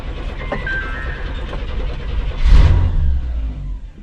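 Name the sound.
Chevy 454 RV engine running with manual choke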